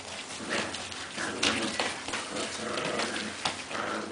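A pile of puppies wrestle roughly together, making continuous close scuffling, pattering paws and soft yips and grumbles, with a couple of sharper thumps.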